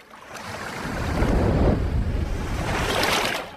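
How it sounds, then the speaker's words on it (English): Ocean surf breaks in a broad, loud wash of rushing water, swelling twice over a few seconds with a hiss of spray and no voices. "At last, the sea. Beyond the surf, calmer water."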